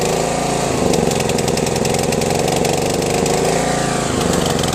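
A lawn tractor engine runs steadily at idle, loud and close, with an even rumbling pulse throughout.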